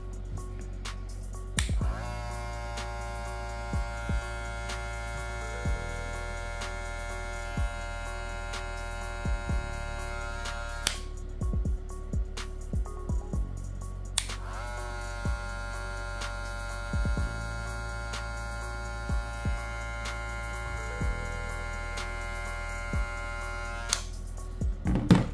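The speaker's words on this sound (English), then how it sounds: "I put a brushless motor inside. It's 7000 RPM brushless motor." A hair clipper fitted with a 7000 RPM brushless motor runs with a steady, quiet electric whine in two long stretches, separated by a short gap, with small clicks and handling noises throughout.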